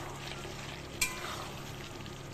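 Potato curry simmers and sizzles steadily in a pan, with a soft single scrape of stirring partway through, close and continuous.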